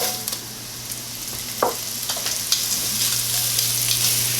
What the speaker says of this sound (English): we're going to let these saute for about 5 to 8 minutes